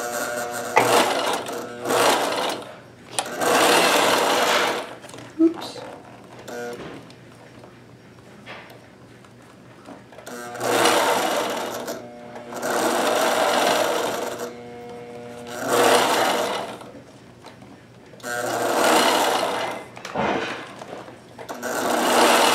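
A sewing machine stitching a fabric cover for a 3D printer, running in repeated bursts of rapid mechanical whirring separated by brief pauses, close and fairly loud.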